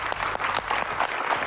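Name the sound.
studio audience applause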